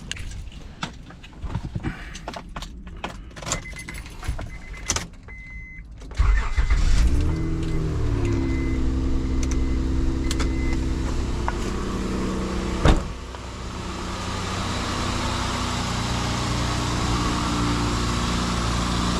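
A Honda Odyssey minivan cranks and starts after a few faint clicks and rustles, then settles into a steady, close idle with a low engine drone and one sharp knock partway through, no talking.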